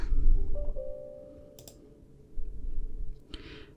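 Computer mouse clicks while adjusting file permissions in the PEAKS 12 software: a couple of soft, brief clicks spaced a couple of seconds apart over a low background hum.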